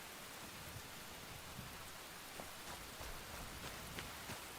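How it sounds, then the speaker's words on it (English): Steady rain falls in the Enshrouded video game, a dense, even hiss of drops with faint scattered pattering throughout and no voices. "I love the rain and Enshrouded."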